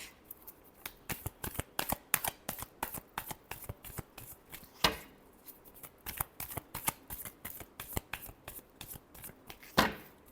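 Tarot cards are shuffled in rapid, crisp riffling bursts close to the mic, with two sharper snaps standing out from the steady flutter and no voices.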